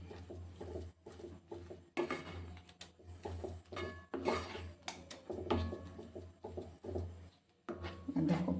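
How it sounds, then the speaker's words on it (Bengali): Bread being mashed with milk in a bowl for a Bengali sweet, heard as soft irregular squelching pats and spoon scrapes with occasional knocks against the bowl, close and fairly quiet throughout. "তারপর ভালো করে এটার সঙ্গে একটু মাখিয়ে নেব, একেবারে নরম করে নেব।"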